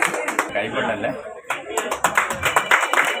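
Audience applause at the official inauguration of a Butterfly Diamond Fest at a jewellery store, a dense burst of clapping that dips briefly and then swells again, loud and close throughout.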